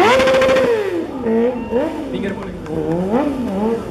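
Yamaha sport motorcycle, an R6 or MT25, sliding and drifting at a freestyle show during the Aceh Motorsport Festival, its engine loud and close, revving and wavering in pitch with continuous swooping rises and falls.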